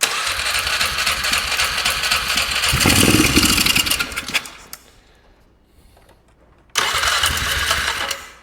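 A Polaris Sportsman ATV engine runs loud and buzzy, revs, then cuts out into near silence for a couple of seconds before roaring back abruptly.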